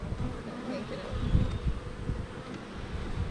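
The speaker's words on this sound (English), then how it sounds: "Either a drone just come and landed in this hive, or a carpenter bee, something just come by" A carpenter bee or drone bee flies past close to a beehive with a loud, rough buzzing drone. It swells and wavers over faint wind noise, with no talking.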